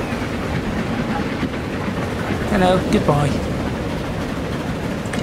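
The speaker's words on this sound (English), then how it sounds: "There's one of the other trains." A passing train in Transport Fever 2 rumbles steadily with rolling rail noise and a short whistle-like tonal call midway, while a voice speaks briefly over it.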